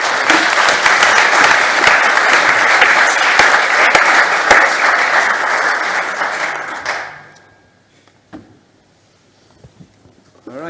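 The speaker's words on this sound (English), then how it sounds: "another round of applause for our speakers" Lecture audience claps for the speakers at the close of a talk: dense, loud, sustained applause lasting about seven seconds, then stopping abruptly into near silence with a few faint sounds.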